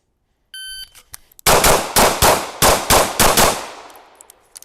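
Video game gunfire from shooting at targets: a brief electronic beep, then rapid rhythmic bursts of loud, sharp shots in quick clusters, close and dry, with no talking over them.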